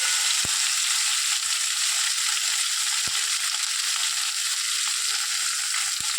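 Ginger and tomato masala sautéing in a pan, a dense, steady close sizzle with a few sharp taps of a spoon against the pan, no voices.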